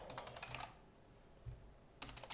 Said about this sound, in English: I am not good on the typing today.